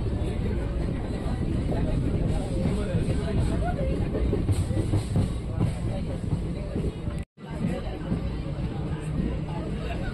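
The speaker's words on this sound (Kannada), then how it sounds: "ಈಗ ಅನಂತಪುರ ರೈಲ್ವೆ ಸ್ಟೇಷನ್ ಒಳಗೆ ನಮ್ಮ ಟ್ರೈನ್ ಹೋಗ್ತಿದೆ" Basava Express train rolling into Anantapur railway station, a continuous rumbling rail noise heard from inside the coach with passengers chattering nearby and a brief dropout near the end.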